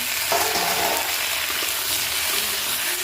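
Potatoes hit a hot pan of reddened onion and ginger-garlic paste and fry with a loud, steady sizzle that runs unbroken for about three seconds, joined by a few faint clinks.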